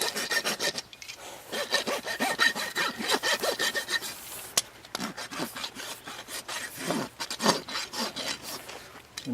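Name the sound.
rasping a horse's hoof outer wall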